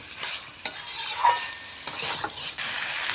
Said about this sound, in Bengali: চেরা কাঁচা লঙ্কা মিষ্টি কুমড়ো আলুর সঙ্গে ভালোভাবে মিশিয়ে নেব